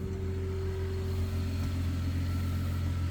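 A 1995 Toyota Land Cruiser FZJ80 engine idles with a steady, low, smooth, even rumble, close by and unbroken, with no voices over it.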